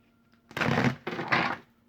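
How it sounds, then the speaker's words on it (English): Playing cards being shuffled by hand make two quick, close papery riffling bursts in otherwise quiet surroundings. "Shuffle these a little bit."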